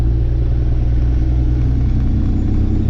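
Peterbilt 359 truck engine rumbling loud and steady, a continuous deep drone with no clear rev changes, heard close from inside the cab while downshifting through a 15-speed transmission.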